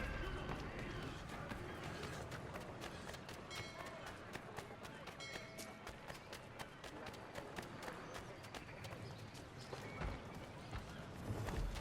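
Horses galloping with rapid hoof clip-clops in Assassin's Creed III Remastered, set in a bustling colonial city, steady and continuous under crowd bustle and background game sounds.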